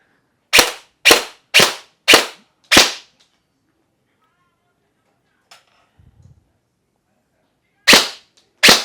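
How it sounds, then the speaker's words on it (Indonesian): A toy AEG gun test-fires in five sharp, loud cracks in quick succession. After a quiet stretch with a faint click and soft rustle, two more sharp shots follow close to the microphone. "Sekarang kita coba tes nembak. Bunyinya nih ya."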